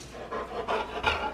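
A dog pants close up with quick, rhythmic rasping breaths, several in a short burst with no talking.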